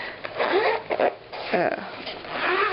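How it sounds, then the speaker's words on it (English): A zipper on a small zippered portfolio is pulled open or shut in a few quick, close rasping strokes, with a person talking over it. "little zippered portfolio thing here, because it's just perfect"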